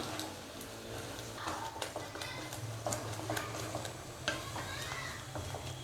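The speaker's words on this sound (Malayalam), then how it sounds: "ഇതൊരു മീഡിയം ഫ്ലെയിം വെച്ചിട്ട് ഇങ്ങനെ ഇളക്കിക്കൊണ്ടിരിക്കുക." Beaten egg stirred in a pan over a medium flame for Kerala-style egg thoran, giving a steady low sizzle with soft scraping and spatula taps throughout, fairly quiet.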